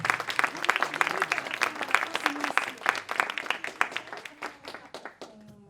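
Audience applause at a book launch evening, a room full of people clapping steadily with dense, rapid overlapping claps that thin out and fade toward the end, with faint voices murmuring underneath.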